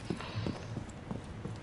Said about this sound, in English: Am I being chased? I hear footsteps.